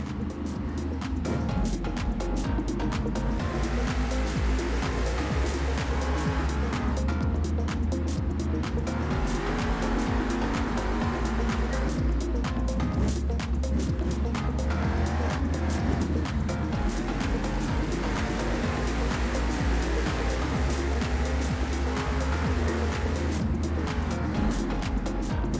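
Monster trucks Megalodon and Mohawk Warrior race side by side at a San Diego Monster Jam stadium show, engines roaring loud and continuous throughout with surging revs, over a constant crowd and arena din.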